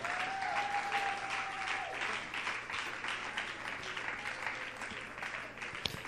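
A church congregation applauds to acclaim the Lord: dense, sustained clapping from a crowd at moderate distance, fading slightly toward the end.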